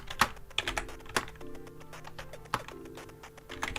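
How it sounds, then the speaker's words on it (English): Typing on a computer keyboard during a live stock trading session, with irregular bursts of quick clicks and a few sharper key strikes, fairly close, alone with no voice. "so I'll type that too"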